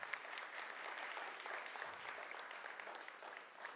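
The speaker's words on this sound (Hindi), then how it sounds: "जरा इसके नाम की ताली बजाओ एक बार सब" Applause from a conference audience at an inaugural session, dense steady clapping filling the whole stretch without speech over it.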